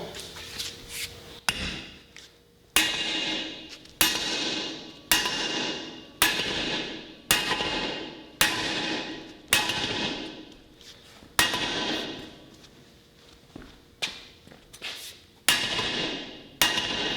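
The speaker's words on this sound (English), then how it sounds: "And really all there's left to do is just hammer them home." Sharp metallic hammer strikes ring out one by one at a steady pace, about a dozen blows driving bearing races into Mack R686ST truck hubs, each with a short ringing decay, close and clear.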